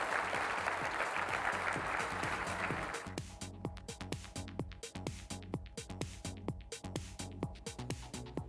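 An audience bursts into loud, sustained applause after a talk, dense clapping filling the first few seconds before thinning into scattered, rhythmic claps over a low musical backing.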